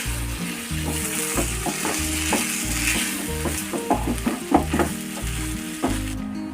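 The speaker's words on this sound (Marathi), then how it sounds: "इथे मी मॅश करून बटाटा घेतलेला आहे तो टाकूया व्यवस्थित मिक्स करून घेऊया" Mashed potato is stirred into a hot pan for aloo paratha filling, with a steady sizzle under repeated scraping and stirring strokes.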